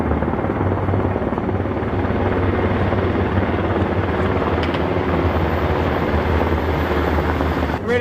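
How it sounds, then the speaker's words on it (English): A helicopter flies close by, with a loud steady rotor thump and engine drone that continue unbroken. "they're just trying to shoot that helicopter"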